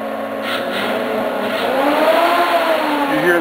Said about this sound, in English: Fan going to high RPM.